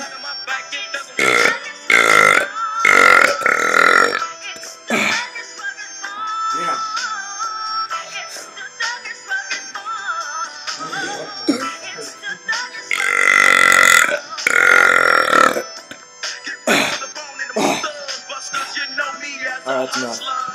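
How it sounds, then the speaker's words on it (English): Repeated loud burps from a person, long drawn-out belches recurring across the stretch with brief gaps, close and prominent, with some talk in between. "It's enough burping."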